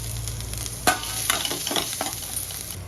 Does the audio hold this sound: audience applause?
no